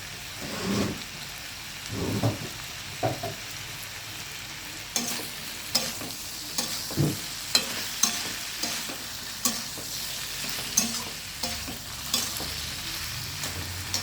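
Spices and vegetables are sautéed and stirred in a pan for a Bengali dish, a low steady sizzle broken by repeated sharp spatula scrapes and clacks against the pan at an irregular pace.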